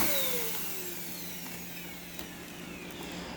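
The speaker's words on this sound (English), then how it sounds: "an otherwise perfectly working vacuum rendered useless by a brush roller" A Hoover React vacuum cleaner runs with a faulty brush roller, giving a constant harsh, rough whirring roar close up, with faint ticking and rattling over the motor noise and no voices.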